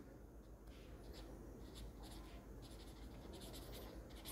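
Chalk or marker writing on a board during a calculus lesson, a soft scratchy run of short strokes at steady close range over a faint room hum, with no talk.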